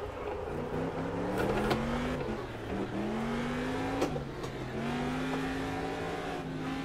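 A truck engine revs and drones steadily while driving around Targa, pitch climbing and dropping with gear changes and throttle lifts, loud and continuous with no talking.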